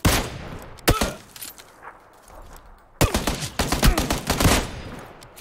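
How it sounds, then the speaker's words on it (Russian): Bursts of rapid gunfire in the video game PUBG crackle in two main volleys with scattered single shots between, sharp and loud against a quiet background. "Идем на звуки стрельбы."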